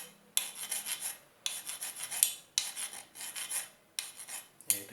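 A copper pipe is rubbed down with abrasive after reaming, in four long rasping strokes separated by short pauses, close and fairly loud, with no voices.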